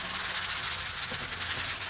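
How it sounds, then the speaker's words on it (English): Steady, raspy scraping of sandpaper rubbing back and forth by hand over plywood edges, close and continuous with no talking. "I'm gonna sand all the edges lightly"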